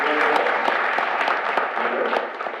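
An audience at a board meeting gives a round of applause: a continuous spatter of many hands clapping at moderate loudness for a couple of seconds.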